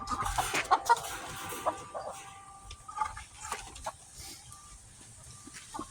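Backyard chickens in a coop being readied for winter cluck in scattered, uneven bursts, some close and some faint, with light knocks in between.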